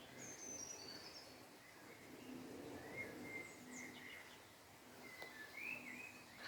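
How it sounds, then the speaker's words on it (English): Several birds chirp and whistle in short, scattered phrases from the treetops, faint and somewhat distant, over a soft outdoor hush. "I hope you're getting the sound of the birds as well, joining us in the treetops."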